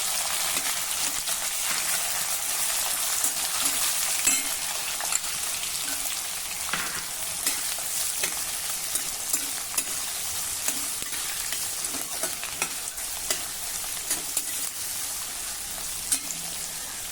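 Onions frying in hot oil in a pan after peanuts, stirred as they brown while cooking Maharashtrian ukadpendi from corn flour; a steady close sizzle with small scraping and stirring clicks throughout, no talking.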